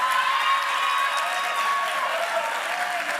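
A church congregation applauds during a Sunday service, with dense, steady clapping from many hands that stays strong throughout and fades slightly at the close.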